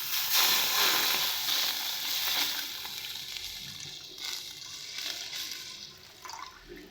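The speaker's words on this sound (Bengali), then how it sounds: "এদিকে কড়াই গরম বসিয়ে দিয়েছি, কড়াই দিয়ে দিচ্ছি পরিমাণ মতন জল" Water poured into a hot wok while cooking water lily stems with shrimp splashes and hisses in a broad steady rush, sizzling then fading over several seconds, fairly quiet and without talk.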